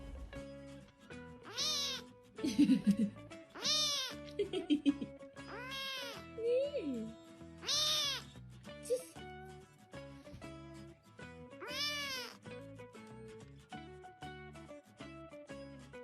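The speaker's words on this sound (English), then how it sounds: "Meow, meow. What a good kitty." A cat meows repeatedly, near and clear, with a series of drawn-out calls spaced every couple of seconds and a voice in between.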